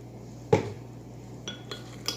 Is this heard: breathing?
no